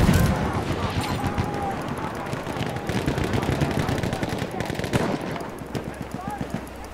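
Rapid machine gun fire rattles through a Battlefield 1 battle, steady bursts with scattered shots and thuds layered over it, moderately loud, with voices shouting underneath.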